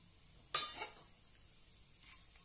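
Whole bay leaf, cloves, black peppercorns and cumin drop into hot oil in a pan for kala chana pulao, giving one short crackling sizzle burst followed by faint quiet stirring.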